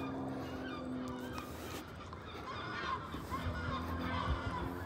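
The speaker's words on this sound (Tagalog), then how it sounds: "Nagliparan yung mga ibon." A flock of birds takes flight, their honking, goose-like calls overlapping and continuing in a busy cluster at moderate distance, with no talking.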